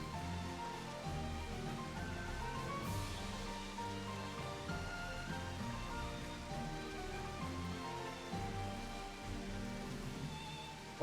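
Rain drumming against a cracked window in a Final Fantasy XIV house room, an unbroken even hiss of drops layered over gentle background music.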